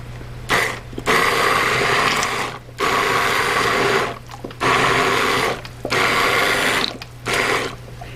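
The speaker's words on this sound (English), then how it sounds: "now we're just going to hit it with the immersion blender" An immersion blender whirs in four loud bursts of a few seconds each, separated by short pauses, its motor grinding through thick pineapple jam nearby.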